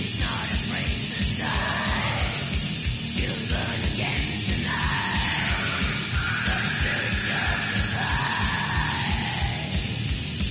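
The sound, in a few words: Black metal song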